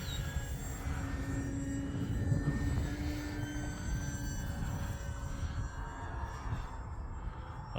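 Flex Innovations QQ Yak 55 RC airplane engine droning steadily in flight, a continuous buzzing whine that shifts in pitch as the plane passes, moderately distant and heard alone.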